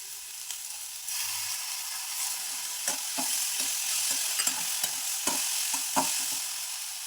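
Ridge gourd with green chilies and lentils fries in a pan, giving a continuous hiss with a run of quick scraping and clinking stir strokes, close and clear with no voices.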